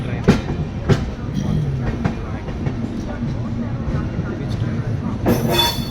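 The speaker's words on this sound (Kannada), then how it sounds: "ಫ್ರೈಟ್ ಅದು ಫ್ರೈಟ್ ಗೂಡ್ಸ್ ಟ್ರೈನ್" Freight goods train rolling past at Itarsi Junction, a steady rumble and rattle of wagons with sharp clanks and a brief high squeal near the end, close and continuous.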